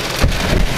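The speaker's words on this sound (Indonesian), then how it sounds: "Aduh, hujan." Rain falling outdoors, heard as a steady broadband hiss of drops spread across the whole short moment, fairly loud and close, with a low thump of wind buffeting near the start.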